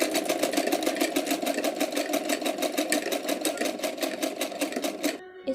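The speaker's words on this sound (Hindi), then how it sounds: "यहाँ किनारे पे हम सिलाई करेंगे अब" A sewing machine runs steadily while stitching along the folded edge of a blouse, its fast even needle rhythm close and loud, stopping abruptly near the end.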